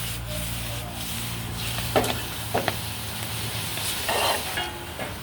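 Instant noodles stir-fried with seasoning, sugar and oyster sauce in a pan, giving a continuous sizzle and scraping rub with a few louder stirring scuffs, no talking.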